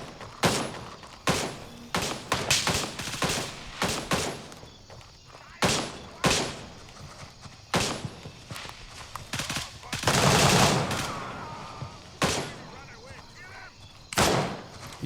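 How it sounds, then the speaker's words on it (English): Bursts of enemy AI rifle fire in the game Gray Zone Warfare ring out near a checkpoint, sharp repeated shots in irregular volleys across the whole stretch, with one longer sustained burst partway through. "He's shooting right at me."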